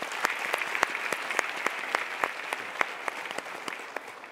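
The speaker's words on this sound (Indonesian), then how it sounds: "kita berikan tepuk tangan untuk mereka." A studio audience applauds steadily at a televised Indonesian talk show, a dense wash of clapping with sharp individual claps standing out throughout, moderately loud and with no talk over it.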